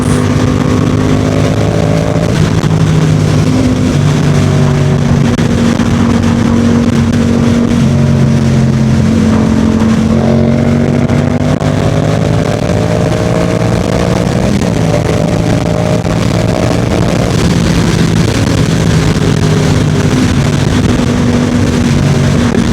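A Yamaha MT-07 motorcycle with an R6 throttle tube drones loud and close while riding, its engine note rising and falling through gear shifts over constant wind rush, with no voices.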